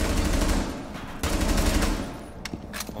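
Rapid automatic gunfire from a Rainbow Six Siege match, a dense burst of shots filling the first half then tapering into a few scattered, sharper reports near the end, with no talk over it.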